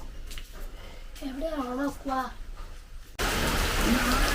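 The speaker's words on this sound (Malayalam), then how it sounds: "രാത്രി തുടങ്ങിയ മഴയാ ഇടയ്ക്കിടയ്ക്ക് ഒന്ന് തോരുമെന്നല്ലാതെ നിന്നിട്ടില്ല" Steady rain falls on a house during a monsoon-season day, a continuous broadband wash that swells louder near the end, with a voice and brief talk heard over it earlier.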